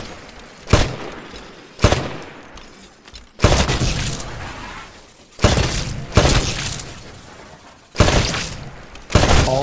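Bursts of full-auto rifle fire at shooting-range targets in the Titanfall pilot training level, loud close rattling volleys of a second or so each, about seven in a row with short pauses and clattering impacts between.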